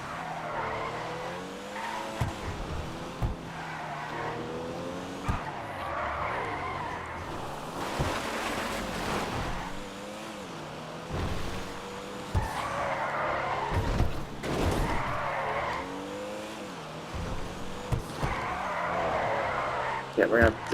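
Tires squeal and skid as a car drifts on hill roads in GTA Online, with repeated screeches rising and falling over a revving engine, and a voice talks over the driving.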